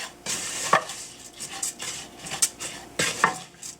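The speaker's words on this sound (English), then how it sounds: "I'm going to stir these together. Let that all marry and let the spices toast up with the rice." A spoon stirs rice and spices in a hot pot, sending close metallic scrapes and clinks in an irregular rhythm over a faint sizzle, with no talking.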